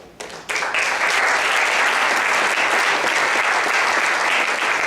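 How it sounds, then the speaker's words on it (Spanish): An audience at a teacher-training panel bursts into applause after a brief quieter moment, then keeps up a loud, even roar of clapping to the end. "ya lo aplaudieron"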